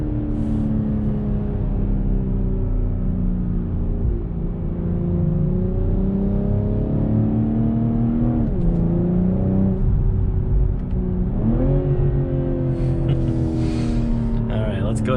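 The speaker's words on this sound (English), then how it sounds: "This car is definitely fun to drive in sport mode." 2021 BMW M440i six-cylinder engine pulling hard in sport mode from inside the cabin, steady rising revs with several gear-change dips and climbs, a continuous loud growl as someone talks over it.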